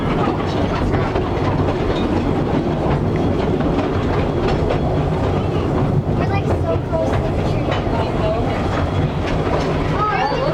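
A narrow gauge train rumbles steadily along the rails, a constant low roar with faint clacking and rattling throughout, close and loud with no break.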